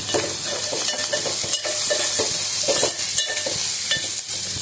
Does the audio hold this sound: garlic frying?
yes